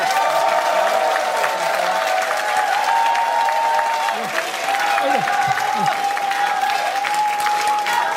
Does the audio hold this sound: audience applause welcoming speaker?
yes